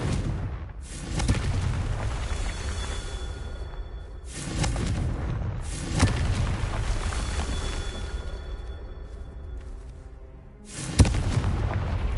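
Confringo explosion spell in a Harry Potter game, three heavy booming blasts spaced several seconds apart, each followed by a rumbling roar that swells and fades.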